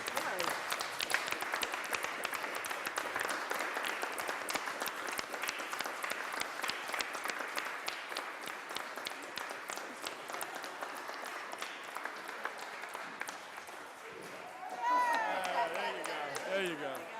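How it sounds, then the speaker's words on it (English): A room full of people at a township committee meeting claps in a steady round of applause that lasts throughout, with a voice speaking near the end. "Let's give a thank you round of applause for Al Sally."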